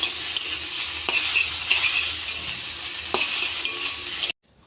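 Dhekhi greens, young fern shoots, fry in a pan with a steady bright sizzle, stirred with a few distinct scrapes and clinks, close and continuous before cutting off abruptly at the end.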